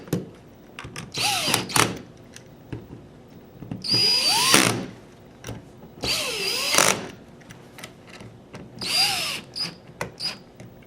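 A power drill drives screws back into an Army Project Salvo assembly in three separate bursts, each whining up and winding down, close and loud, with small clicks and handling noises in the gaps.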